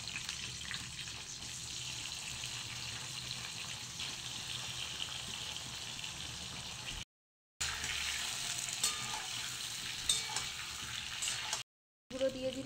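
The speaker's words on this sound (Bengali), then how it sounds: "সবজিগুলো আমি দিয়ে দিচ্ছি, প্রথমে বেগুনটা দিয়ে দিচ্ছি।" Eggplant and vegetables frying in oil with cumin, a steady hiss of sizzling close up, quiet overall and broken by two short silent gaps.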